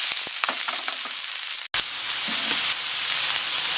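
Bean sprouts and cabbage sizzle loudly in a hot pan, a bright continuous stir-fry hiss with a brief break near the middle, then steady frying again, no one speaking.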